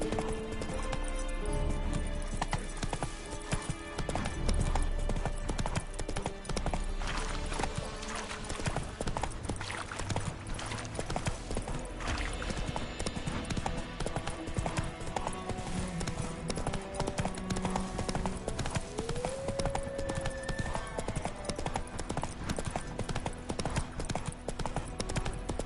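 Roach's hooves clip-clop steadily in Witcher 3, a long, even run of hoofbeats close up over game ambience and music, with a brief whinny-like sound partway through.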